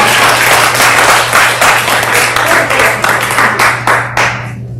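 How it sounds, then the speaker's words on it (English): An audience at a Norwood Board of Education meeting claps for several seconds. The claps are loud, separate and uneven, taper off at the end, and sit over a steady low electrical hum. "You clap for me."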